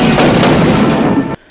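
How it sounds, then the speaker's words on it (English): A dense, booming burst of rapid gunfire from the 1987 film Lethal Weapon roars continuously for over a second, then cuts off abruptly into near silence. "the sound effect design on this movie, the gunshots are just real"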